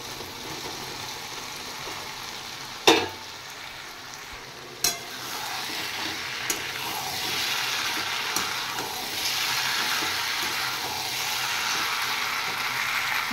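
Pre-fried potatoes and soybeans sizzle steadily in a pan while a spoon scrapes and clanks against it now and then, a continuous close frying hiss with a few sharp knocks.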